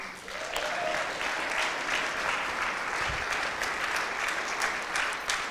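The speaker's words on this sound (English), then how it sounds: "can we just clap it up for our worship team and our tech team?" A church congregation applauds its worship and tech teams, a steady wash of many hands clapping that stays loud and even from start to finish.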